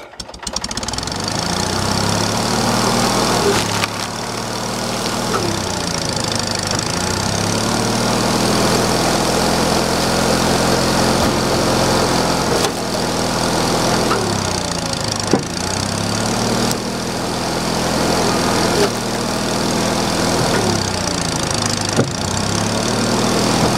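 A gas-powered log splitter engine runs steadily and loud for the whole stretch, its drone dipping and recovering as the ram works through wood, with occasional knocks of splitting logs and no talk.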